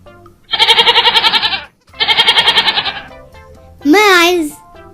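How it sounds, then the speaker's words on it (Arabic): Two loud, wavering goat bleats come close together in an animal-sounds lesson for children, each about a second long, followed by a short spoken word. "ماعز"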